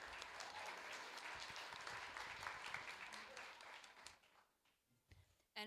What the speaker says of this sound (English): Let's all give them another round of applause collectively.